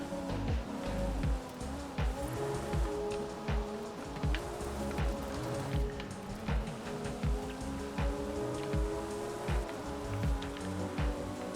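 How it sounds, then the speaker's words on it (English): Steady rain falls on a surface nearby, a dense continuous patter with scattered sharper drops, moderately faint and unbroken, with a low background hum and no talking. "Oh, and it is raining now."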